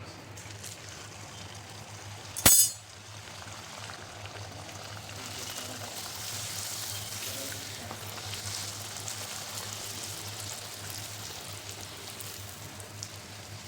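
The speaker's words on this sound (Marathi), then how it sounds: "तर आता तळून घ्यायचे आपल्याला तेल तापले आपल्याला" Puris frying in hot oil, a steady close sizzle and bubbling that builds after a single sharp knock near the start, with no talk over it.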